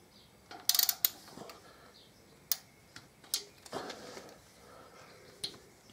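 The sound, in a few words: torque wrench ratcheting while tightening air filter bolts on Harley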